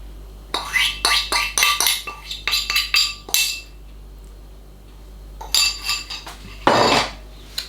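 Fruit, vanilla paste and ground almonds are stirred together in a bowl for a tea loaf, heard as a quick run of close spoon clinks and scrapes against the bowl, a pause, then more clattering strokes.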